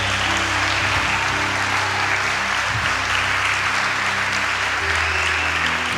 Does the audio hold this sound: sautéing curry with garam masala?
no